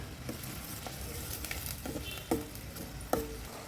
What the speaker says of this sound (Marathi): कांदा पण तेलावर छान शिजवून घ्यायचा आहे आपल्याला.